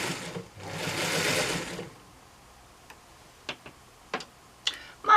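A home sewing machine runs a rapid burst of stitches along the fabric edge of an apron for about a second and a half, then stops, leaving a few sharp mechanical ticks and clicks from the machine.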